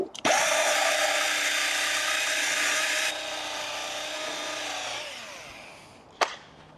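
A power polisher works over a dented car body panel, running as a loud, steady high whine that drops to a lower hum partway through, then winds down, followed by a single sharp knock near the end.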